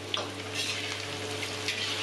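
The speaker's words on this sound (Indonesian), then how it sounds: "Masukkan tempe, gorengnya setengah matang aja ya," Pieces of tempeh frying in hot oil in a pan, a dense close crackling sizzle running continuously with a few sharper pops and no talk.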